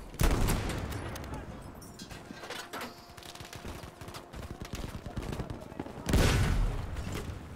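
Gunfire in Battlefield 5, including tank six-pounder cannon shots: bursts of rapid shots and heavy booms crackle across a busy battlefield, loudest at the start and again near the end.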